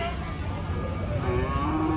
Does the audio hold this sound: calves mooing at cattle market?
yes